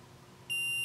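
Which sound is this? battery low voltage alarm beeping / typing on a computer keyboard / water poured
battery low voltage alarm beeping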